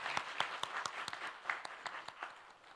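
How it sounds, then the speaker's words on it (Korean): Church congregation at a Sunday afternoon service clapping for the worship team, heard as a short, faint burst of scattered, fairly distinct hand claps from a modest group, with no speech. "힘찬 격려의 박수 한번 해주시겠습니다"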